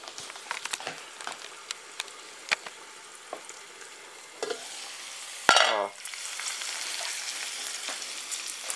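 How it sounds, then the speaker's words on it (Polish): Sausages sizzle and crackle steadily in hot fat in a pan, with scattered clicks and a louder scraping stir partway through. "Jeszcze muszą się usmażyć."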